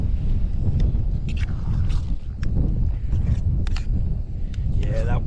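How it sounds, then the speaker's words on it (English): Strong night wind buffeting a lightweight bivvy shelter, loud low rumbling gusts with rustling fabric flaps and a few sharp clicks, sustained throughout. "Yeah, that wind definitely."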